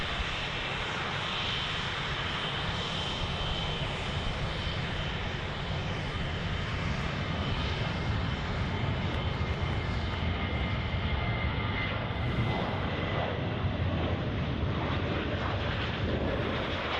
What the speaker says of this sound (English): We'll switch straight into the Ryanair that's departing there.